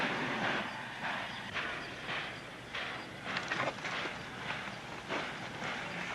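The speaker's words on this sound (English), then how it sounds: "All we got to do is pull that train out ourselves." A train pulls out and rolls along the rails in an old western TV episode, with a steady rumble and repeated rhythmic clacking bursts at moderate distance, no voices.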